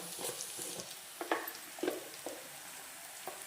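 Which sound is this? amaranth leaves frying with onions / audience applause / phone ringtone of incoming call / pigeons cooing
amaranth leaves frying with onions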